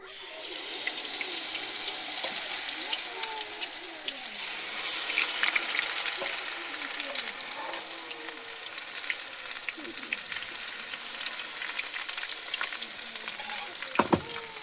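Pitha batter sizzles and bubbles steadily in hot frying oil, a continuous crackling hiss with soft pops throughout and a couple of sharper clicks near the end.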